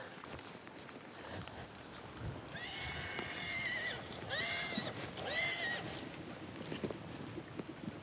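Wild horses in mountainous country give three distinct whinnies in quick succession at moderate distance, over a faint bed of rustling movement and possible hoof steps.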